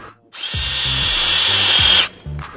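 A power drill with a 29/64 bit bores through a plastic valve cover, one steady high whine lasting under two seconds, with a few clicks and bumps before and after.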